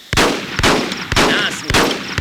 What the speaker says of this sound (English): So this is your Colt pistol.